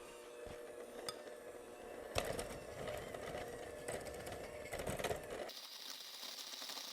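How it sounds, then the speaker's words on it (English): Sugar and butter being mixed together for chocolate chip cookie dough, a steady mechanical whir with a brief pause near the start, continuing up close with no talking before it cuts off abruptly. "I'm going to mix these ingredients until all combined"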